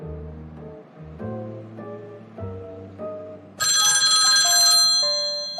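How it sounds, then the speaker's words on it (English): A synthesized melody plays, then a loud, bright electronic telephone ring bursts in and keeps sounding to the end. "It must be the phone."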